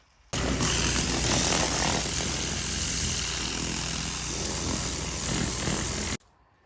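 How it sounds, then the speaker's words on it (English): A turbo power washer runs as a loud, steady broadband roar and rush, close by, holding for about six seconds before cutting out abruptly into near silence. "So Keelan is going ahead with the turbo power washer, and it died out."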